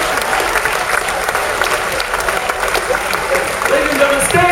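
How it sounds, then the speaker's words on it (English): A cruise ship show audience applauds loudly for the performing couples, with dense, steady clapping and some crowd voices filling the whole stretch. "give them a big round of applause because they did this for your entertainment tonight"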